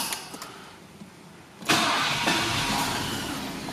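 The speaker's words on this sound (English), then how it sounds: "The engine starts, drives beautifully, as you would expect" A 2007 Mercedes-Benz E500 Avantgarde with a 5.5-litre V8 cranks and fires after a quiet moment, jumping to a loud, steady, full-bodied idle rumble that holds until the end.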